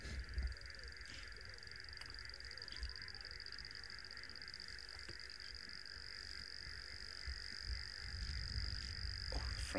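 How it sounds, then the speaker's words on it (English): Frogs at a safari waterhole croak in a dense, continuous morning chorus, a steady shrill pulsing drone that stays at an even, moderate level throughout, with faint low thumps beneath it. "Oh, the frogs are noisy this morning."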